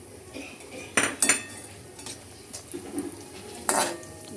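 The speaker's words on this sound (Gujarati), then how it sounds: "હવે આપણે પમ્પકિન સીડને પણ તળી લેશું." Pumpkin seeds frying in ghee in a pan, faint soft sizzling under a few sharp metal clinks and scrapes of a spoon stirring against the pan, irregular and close.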